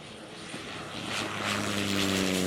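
A propeller plane arrives at a safari camp airstrip near Governor's Camp in Africa, its engine drone swelling steadily louder with a rising tonal hum as it approaches.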